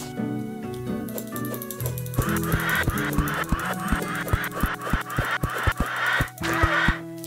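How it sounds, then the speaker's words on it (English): Birds honking in the video game Terraria, a rapid series of loud, close, goose-like honks in a steady rhythm over a sustained musical tone. "this is the only weapon I have against the birds"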